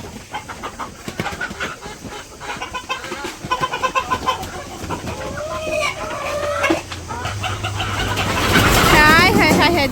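Chickens at a village poultry farm cluck and squawk near and loud, with rising excited calls toward the end, while people talk over them throughout.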